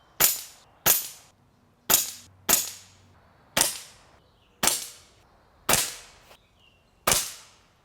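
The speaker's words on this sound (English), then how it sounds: "FX's silencer is modular, so I wanted to see what it sounds like at its different lengths and compared to unsuppressed" An FX air rifle with a modular silencer fires eight sharp, separate shots at uneven intervals, each a crisp crack with a short decay, loud and alone.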